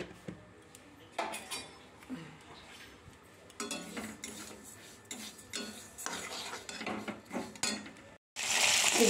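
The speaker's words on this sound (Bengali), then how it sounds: "আর এখন ফুলকপি আলু ভাজছি।" Cauliflower and potatoes being fried in a pan give irregular metallic clinks and scrapes of a spatula stirring, ending in a louder burst of hissing sizzle.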